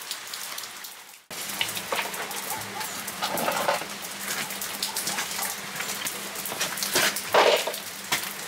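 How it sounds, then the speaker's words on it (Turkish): Steady rain falls outdoors in a wooded village during a storm in İzmir, a continuous hiss of drops on surfaces with occasional louder patters and faint background sounds, no talking. "Şu an itibariyle normal bir şekilde yağmur yağıyor."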